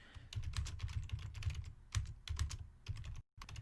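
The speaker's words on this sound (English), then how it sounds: "until you go ahead and start typing some text" Rapid typing on a computer keyboard in quick bursts of clicking keystrokes, close and fairly quiet, with a brief pause near the end.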